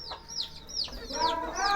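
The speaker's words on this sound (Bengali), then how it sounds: "এই যে আমাদের দেশি মুরগিগুলো" Local desi hens on a small farm cluck and chirp in short, rising calls, close by and in quick succession over a low background murmur.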